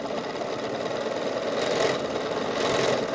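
A sewing machine stitches a 1/4 inch seam with a steady, continuous mechanical whir that swells slightly in speed a couple of times. It runs alone throughout, with no voices.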